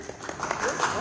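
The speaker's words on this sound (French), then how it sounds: "Non, mais applaudissez." Lecture audience applauding during a rabbi's talk, a steady, fairly faint wash of many hands clapping with no clear pauses, lasting about a second.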